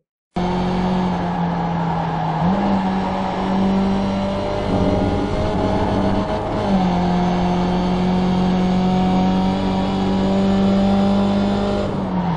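A race car engine drones at Watkins Glen in the iRacing sim, a loud, sustained note that dips and climbs through gear changes, with faint tire squeal along the way.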